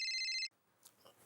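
A telephone rings in an indoor household scene, a loud electronic trill repeating rapidly for about half a second before cutting off, followed by faint room noise.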